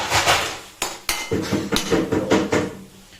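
A spoon stirs baingan bharta, a mashed roasted brinjal dish, in a metal pan, giving several sharp clanks and scraping knocks in an uneven rhythm, close and moderately loud with no talking.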